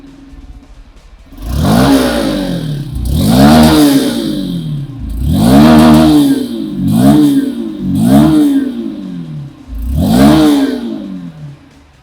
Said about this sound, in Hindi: let me just make you listen to the exhaust note.